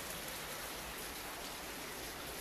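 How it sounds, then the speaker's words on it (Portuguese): Heavy rain pours down outside, a dense, steady hiss that stays even throughout and sounds a little distant and muffled, with no voices. "tá chovendo lá fora um monte."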